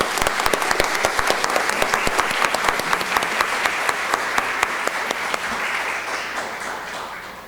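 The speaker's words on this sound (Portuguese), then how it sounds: "Eu quero uma salva de palmas para a dona Ela." Sustained applause from a seated audience at a formal civic ceremony in Brasília honoring a new honorary citizen, dense and steady clapping at moderate distance that gradually thins toward the end.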